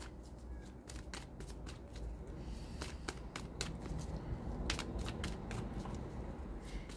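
Tarot-style cards being shuffled and drawn by hand, a quiet run of soft, rapid papery flicks and snaps in an irregular rhythm close by.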